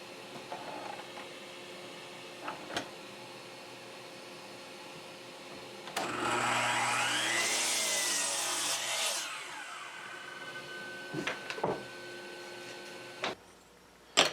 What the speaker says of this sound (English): I set the miter saw now to 10 degrees.